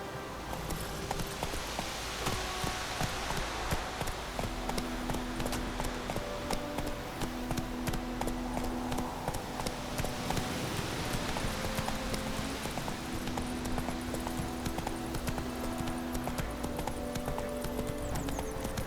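Roach, a horse in The Witcher 3, trots with a steady clip-clop of hooves throughout, close and fairly loud over a game music and ambience bed, with an occasional faint snort.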